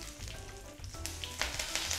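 Tempering for Gujarati khaman: curry leaves, split green chillies and asafoetida hit hot oil with a close, crackling sizzle that flares sharply partway through the short burst, with no voices.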